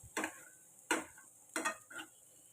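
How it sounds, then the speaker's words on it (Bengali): Ivy gourd (kundri) frying in a pan, heard as four separate bursts of stirring and sizzling with near silence between them. The scrapes are crisp and close. "কুঁদরি ভাজছি"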